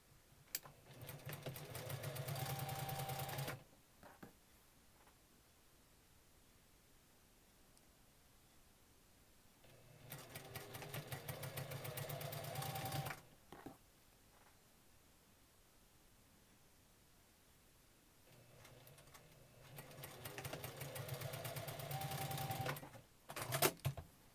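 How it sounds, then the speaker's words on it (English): A sewing machine stitches quilt block rows together for a spool block, running in three steady bursts of about three seconds each with quiet pauses between, close and clear with no talking. "I'll just sew these"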